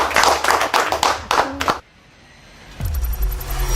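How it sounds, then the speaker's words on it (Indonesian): Brief burst of hand clapping from a few people in a podcast studio, loud and close, stopping after about two seconds; a quiet pause follows, then a low rumbling sound comes in. "Tepuk tangannya man."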